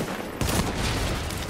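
Rapid turret gunfire in a first-person shooter game: a loud, dense burst of shots begins abruptly and keeps going without a break.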